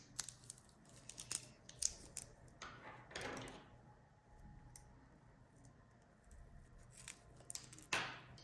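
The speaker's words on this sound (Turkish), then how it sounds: "Diğer ucunu da kesip buradan çıkartacağım." Scissors snip cotton macrame cord for a crocheted bag, several quiet sharp cuts and clicks at irregular intervals, close and faint in a calm room.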